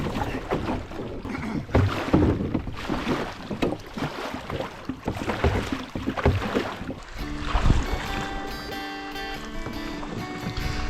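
Canoe paddling on a lake in Algonquin Park: rhythmic water strokes and splashes for most of the stretch, with light wind noise, then a steadier low drone underneath toward the end.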